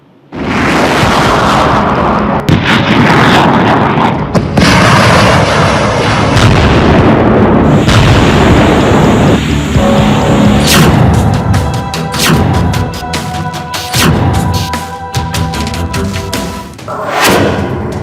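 Ukrainian BUK-M1 air defence system and M777 howitzers being struck in war: repeated loud, booming explosions and blasts in sequence, sharp bursts followed by rumbling, with crackling debris later.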